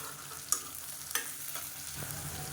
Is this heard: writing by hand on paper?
no